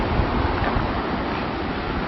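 Ocean surf washes along the coast at Tapak Tuan, a continuous dense roar of breaking waves with no pauses, mixed with some wind buffeting on the microphone.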